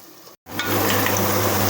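Onions, about a third of them, hit hot oil for a country chicken gravy curry and start a loud, steady sizzle after a short gap of silence.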